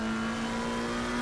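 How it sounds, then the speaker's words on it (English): A race car engine in a sim racing game at Suzuka drones steadily at a high, fixed pitch as it runs through the corners, loud and continuous for a brief moment with no talk. "Now he's taking the car in and out the corners."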